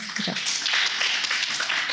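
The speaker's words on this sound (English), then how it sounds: "Let's give him a round of applause" An audience at a live Banned Books Week event with Sherman Alexie bursts into applause, dense clapping close by that runs without a break.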